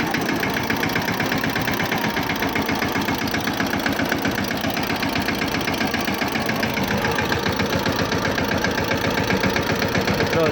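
Tractor standing in a chickpea field with its engine idling, a steady close mechanical chugging and knocking that runs unbroken and even throughout.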